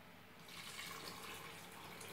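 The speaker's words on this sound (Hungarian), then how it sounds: "Most hozzáadom a langyos vizet." Lukewarm water poured into a glass bowl for sourdough baguette dough, a soft, steady trickling splash that starts about half a second in and continues quietly throughout, with no talking.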